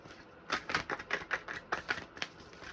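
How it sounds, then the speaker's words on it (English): A deck of affirmation cards being shuffled by hand, a run of quick papery riffles and taps, close and fairly quiet. "These ones are hard to shuffle."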